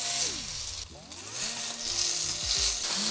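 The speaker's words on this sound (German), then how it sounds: "Ich habe hier eine gusseiserne Pfanne, schon vorgeheizt und jetzt gehen die Hähnchenschenkel einzeln rein." Chicken legs sear in a preheated cast iron pan with a continuous loud sizzle and hiss, overlaid by scraping and clattering pan noises and shifting tonal sweeps.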